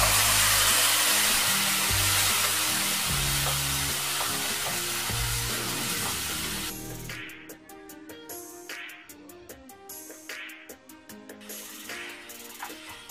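Cooked mutton frying for mutton chukka in a pan of onion and ginger-garlic paste sizzles loudly and steadily for about seven seconds, then drops to quieter bubbling with repeated scraping stirs of a spoon.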